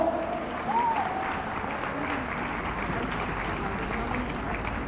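Audience applause at a music celebration event, a steady wash of many hands clapping with faint cheering and brief voice traces over it, moderately loud throughout.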